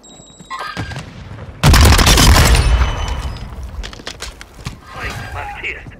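A grenade blast in the shooter game Warzone 2 erupts as a sudden loud, broadband boom partway through, then a rumbling tail slowly fades under ongoing game sounds and a voice.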